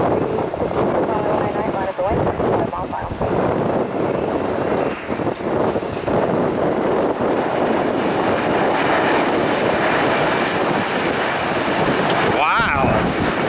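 A Boeing 767 roars through a short takeoff at Tampa airport, a loud, continuous broadband rumble heard from an outdoor spotting position. Heavy wind buffets the microphone throughout, and the engine sound stays strong and close for the whole stretch.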